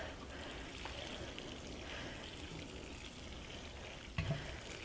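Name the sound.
watering freshly planted pea shoot tray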